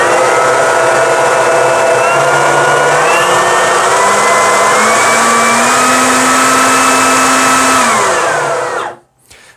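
Kaltmann Titanium 40V cordless leaf blower-vacuum (KTI-ODL2X20V) running loud and steady alone, its whining pitch stepping upward as speed increases, then cutting off abruptly near the end.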